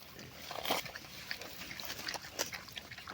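Wild boar piglets following their mother while foraging for food, giving short scattered grunts and snuffles of moderate loudness, with a louder burst near the start and another shortly before the end over rustling ground noise.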